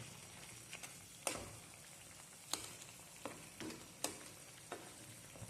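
Salted water tinted with turmeric heating toward a boil in a pot, a faint soft bubbling hiss with occasional small pops and light clinks, quiet and close.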